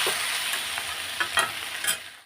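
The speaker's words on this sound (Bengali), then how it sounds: "এখন আমি নাড়াচাড়া করে নেব আলু ভাজা" Potatoes frying in a pan for aloo bhaja, a continuous close sizzle with a few soft scraping stirs near the end and no talk.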